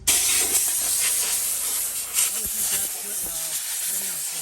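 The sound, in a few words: compressed air blowing water off aluminum Toyota rims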